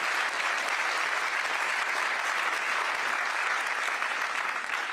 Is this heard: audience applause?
yes